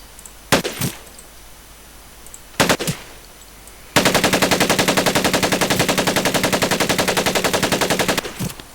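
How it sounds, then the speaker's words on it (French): Thompson submachine guns fire in Medal of Honor Pacific Assault: two short separate bursts, then a long, rapid, evenly spaced stream of loud automatic shots lasting about four seconds. "Prenez votre temps pour viser et tirez seulement par petites rafales"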